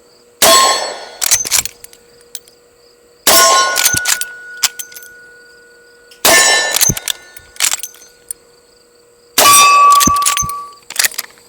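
GForce Arms Mare's Leg lever-action firing 44 Special rounds: four loud, sharp shots roughly three seconds apart, each followed by metallic clacks of the lever cycling.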